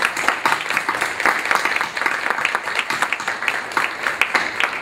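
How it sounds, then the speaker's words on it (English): Audience applause welcoming Anthony Amato as the new superintendent of Stockton Unified School District at a public introduction, a steady crowd of clapping sustained throughout with dense, even texture. "Please welcome with a great round of applause."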